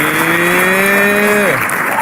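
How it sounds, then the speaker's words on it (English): A crowd claps under a loud sustained tone that slides downward in pitch midway, the dense applause continuing steadily throughout the short stretch. "Give him a round of applause."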